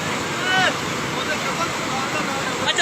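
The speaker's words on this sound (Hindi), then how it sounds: "पानी देख सकते हैं किस तेज़ी से गांव की तरफ बढ़ रहा है।" Floodwater pours through a breached protective dam on the Sutlej River toward a village, a continuous loud broadband rush with no pauses, steady across the whole stretch.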